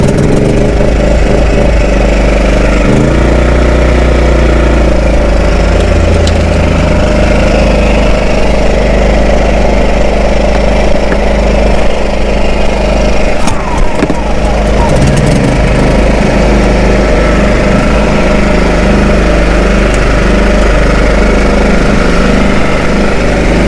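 A small inverter generator engine runs with a loud, steady, close drone throughout, and a voice talks over it at times.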